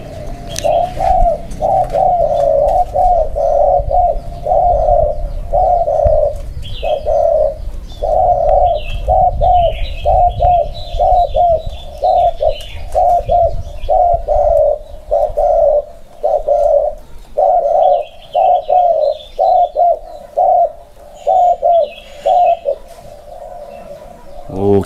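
A dove identified in Thailand as the khu kom coos repeatedly in a steady rhythm of short, hollow phrases, fairly close and clear, with faint chirps of other birds and a low rumble behind.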